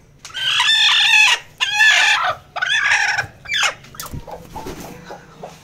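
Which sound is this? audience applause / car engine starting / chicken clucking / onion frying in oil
chicken clucking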